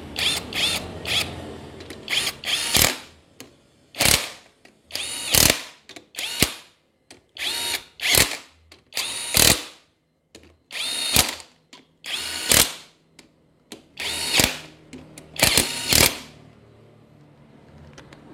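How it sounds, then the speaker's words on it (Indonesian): An impact wrench fires in a rapid series of short, loud rattling bursts with brief pauses between them, tightening bolts while a Toyota Innova petrol engine is assembled in a workshop. No voices. "Kita percepat menggunakan kunci impact, nanti bisa kita ratakan dengan kunci torsi."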